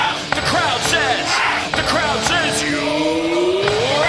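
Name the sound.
cricket crowd at Eden Gardens shouting after a wicket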